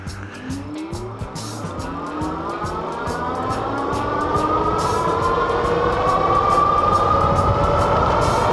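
A dual-motor Puckipuppy GoldenR electric scooter accelerates at full throttle, its motor whine rising steadily in pitch over several seconds, close and loud, with rushing wind noise building underneath and no speech.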